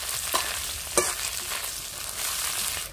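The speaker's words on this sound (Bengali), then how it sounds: "কাতলা মাছের মাথাটা আমি ভালো করে ভেজে নিয়েছি," Catla fish head fries in hot oil in a village-style kitchen, a soft continuous sizzle with a couple of sharper crackles and stirring scrapes, fairly quiet and heard alone.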